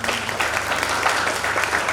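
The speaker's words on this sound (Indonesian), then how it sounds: "Kita tepuk tangan buat Tuhan Yesus." Church congregation applauding during a sermon, dense continuous clapping from many people at an even, sustained level throughout.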